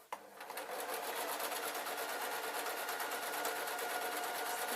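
A sewing machine stitches trouser lining in a steady, fast mechanical whir with evenly repeating needle clicks, running continuously after a brief start, close and alone without speech.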